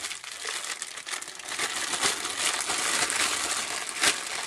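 A plastic bag holding spare parts for a Sinclair QL computer repair is handled up close, giving a loud, continuous crinkling rustle with sharper crackles throughout and no talking.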